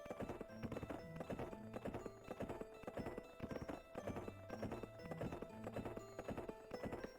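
Rhythmic hoof clip-clops of a horse in a video game, a steady repeating trot pattern with a whinny, loud and continuous over layered game sounds.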